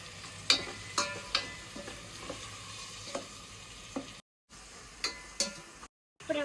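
Tomato rasam mixture bubbles and sizzles softly in a pan while a spoon stirs it, with sharp scraping clinks of utensil on metal coming every second or so over a low steady simmer and two brief gaps of silence.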